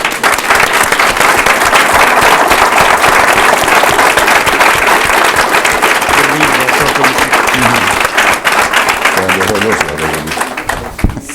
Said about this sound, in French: Je pense que tout le monde mérite une bonne main d'applaudissements.